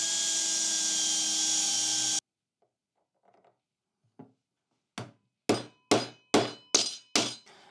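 A bolt is forced by brute force into a chamfered hole of a wooden drill guide jig with a hammer: after a burst of machine noise and quiet, a series of sharp, increasingly loud close hammer strikes ring out in quick succession.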